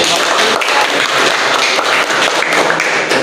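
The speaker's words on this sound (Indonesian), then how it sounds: "Tepuk tangan buat ya" A short, loud burst of dense group clapping fills a classroom lesson, steady and close throughout with no break.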